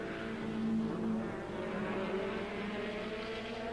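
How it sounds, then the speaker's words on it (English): Onboard at Thruxton circuit in the 1988 BTCC, a touring car's engine roars steadily at racing speed and holds a droning pitch that shifts slightly, loud and continuous with no talk. "Soper, we're riding with Soper."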